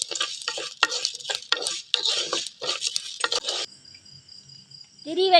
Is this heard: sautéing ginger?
yes